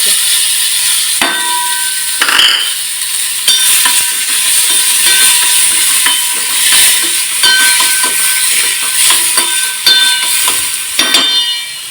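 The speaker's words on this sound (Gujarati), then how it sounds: "મીઠા લીમડાના પત્તા અને થોડુંક આદુ મરચી એડ કરી દઈશું અને આપણા જે ટમેટાને કાંદા હતા ને એ એડ કરી દેવાના" Curry leaves, ginger, chilli, tomato and onion sizzle in a hot pan, a steady loud hiss and crackle with sharp spattering bursts and occasional clinks of a stirring utensil, and no talking.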